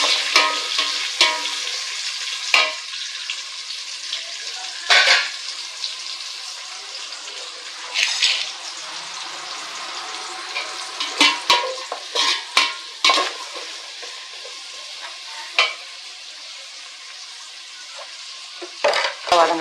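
Sliced big onions with green chilies sautéing in a pan for chicken leg biryani, a steady close sizzle broken by scraping stirs and occasional clinks of the spatula, with no talk.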